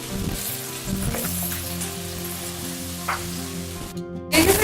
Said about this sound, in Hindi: इसको आपने हल्का सा फ्राई कर लेना है, तेल डालकर।